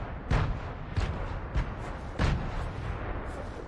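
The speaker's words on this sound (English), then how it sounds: "Sounds like fireworks." Rapid bursts of booming, crackling video game gunfire in Fortnite pop off in uneven clusters, loud and close, like a string of fireworks going off.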